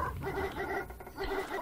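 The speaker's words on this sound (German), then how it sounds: "Und sie bellen immer noch von da unten." Dogs in the video game Red Lake bark and yip from somewhere below, faint and distant, in a few short bursts over a low background.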